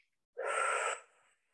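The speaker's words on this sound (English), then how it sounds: "I'm breathing through the O mouth, in and out" One audible, breathy inhale-exhale passes through an O-shaped mouth during a slow meditation breathing exercise. The close, airy hiss rises and then tapers off into quiet.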